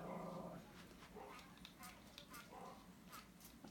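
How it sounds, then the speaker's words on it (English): Small Yorkie-type dogs yap and whimper outdoors as neighbors walk four dogs at once, with several sharp, high-pitched barks at close to moderate distance amid background noise. "the neighbors are walking 4 dogs all at the same time"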